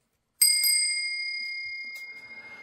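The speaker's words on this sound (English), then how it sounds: "It is a simple bell." A simple bell engraved with a hunting motif and the Pelikan logo is struck twice in quick succession, giving a bright, clear ring that decays slowly, with faint handling noise as it fades.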